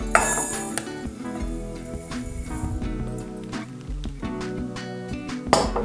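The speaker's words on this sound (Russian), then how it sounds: "Далее пересыпаем пшено в какую-то прозрачную тарелку" Small dry grains of millet pour and patter into a glass bowl, with light clinks of glass in a quiet room.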